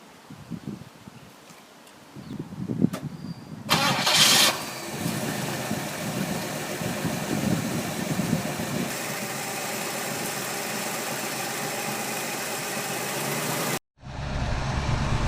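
A 1974 Ford F100 pickup engine cranks and catches, then idles steadily and loudly up close for several seconds before cutting out briefly and restarting.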